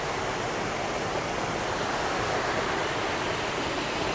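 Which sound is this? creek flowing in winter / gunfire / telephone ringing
creek flowing in winter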